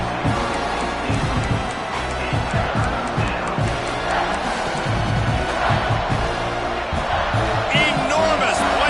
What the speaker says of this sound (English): 3rd down, and this crowd is bringing down the house.